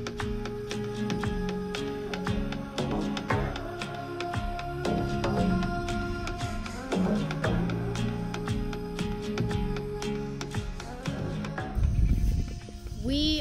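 A goat bleats repeatedly on a farm, several wavering cries spread over the stretch, close and fairly loud, with scattered background noise and a louder call near the end.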